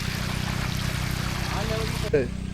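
Water is pumped out of an algae-covered pond, rushing and splashing in a steady, continuous stream; a brief voice cuts in near the end.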